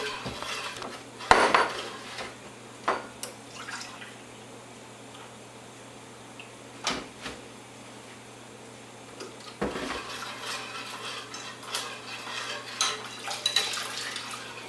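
A roux being stirred in a pan on low gas, with scattered metallic scrapes and clinks of utensil against pan over a faint background hum, a few sharper knocks standing out.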